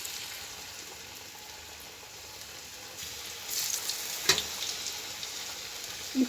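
Breaded potatoes frying in hot oil on a low flame, a steady soft sizzle with brief louder crackles and a few light utensil clinks near the end, with no talk.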